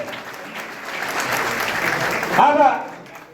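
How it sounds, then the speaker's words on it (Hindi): Warm, sustained clapping from an audience greeting the chief guest at a party meeting about the Ghosi by-election, swelling gradually, with a loud voice calling out over the applause near the end. "जोरदार ताली बजा के पूरा स्वागत करिए।"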